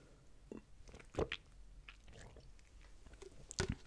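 Close, quiet bites and chewing of a raw apple during an ASMR tasting, with a few crisp crunches standing out over soft, wet mastication.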